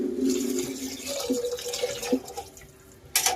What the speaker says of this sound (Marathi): 2 ग्लास मी पाणी ओतलं